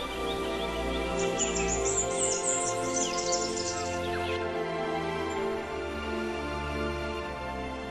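Bright bird chirps and song flutter high above a steady low drone for the first half, then fade as the drone continues alone.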